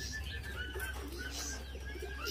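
Red-breasted khướu da bò laughingthrush calling with layered whistled and chirping notes over steady low background noise, fairly close.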